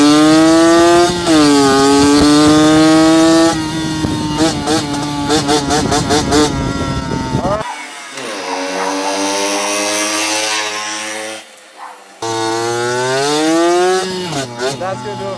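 Tuned Yamaha YSR50 mini bike with an upgraded exhaust and carburetor, its small two-stroke engine revving loud and close, rising and falling through sharp blips and sustained high-pitched wails with brief dips.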